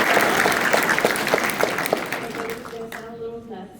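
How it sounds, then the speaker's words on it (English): Audience applause at a speech event, loud sustained clapping with some individual claps standing out, fading toward the end as a tonal sound and a few voices emerge. "Can we have a round of applause?"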